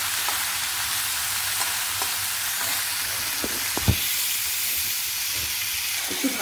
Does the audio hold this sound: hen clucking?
no